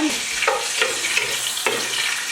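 Bay leaf and whole pulao spices frying in hot oil for a Telugu-style gongura chicken, a steady bright crackling sizzle with brief stirring scrapes, close and fairly loud, no voices.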